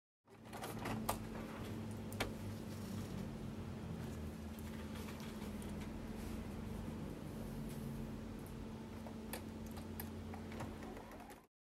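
Sewing machine running steadily while stitching quilt block lines with a 1/4 inch seam for a Japanese Lantern patchwork block, giving a continuous close motor hum with faint ticking clicks and no talking.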